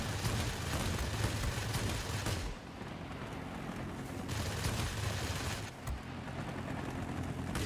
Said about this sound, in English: These cannons do overheat quickly.